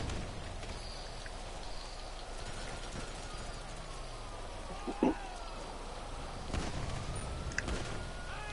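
Steady rain patters and hisses across surfaces in the GTA Online game world, with a few duller knocks and thumps rising briefly over the constant downpour.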